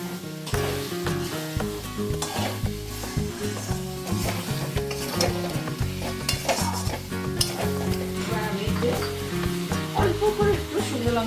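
Chui jhal chicken pieces sizzle loudly in a pan while being stirred steadily. The frying runs continuously, close and busy, with frequent scraping stirs and no talking.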